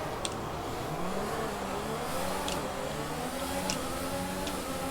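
Race cars in F1 2020 surge away from the start at the Sochi Russian Grand Prix, several engines revving and climbing in pitch together as they pull off, steady and fairly close throughout.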